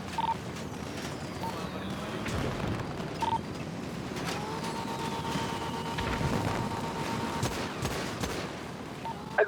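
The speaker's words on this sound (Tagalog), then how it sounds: "Ay, fireworks na." Fireworks popping and booming repeatedly at a distance, with whistling rockets and a crowd of voices talking throughout.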